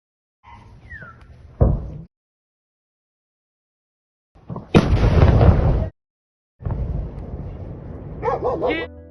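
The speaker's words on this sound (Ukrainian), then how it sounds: "Під ранок у мережі з'явилися кадри вибухів та пожежі у Тихорецькому районі Краснодарського краю РФ" Explosions at an ammunition depot in the Tykhoretsk district of Russia's Krasnodar region, heard as loud booming blasts with long rumbling roars, separated by short silences.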